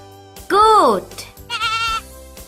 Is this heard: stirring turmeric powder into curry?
no